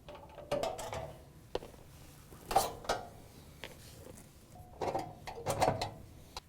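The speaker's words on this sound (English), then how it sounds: "We have to go ahead and remove these 4 screws that hold it in." Screws come out of the rear access panel of a Whirlpool gas range in a series of scattered metallic clicks, scrapes and tool clatter, close by with quiet gaps between bursts and no talking.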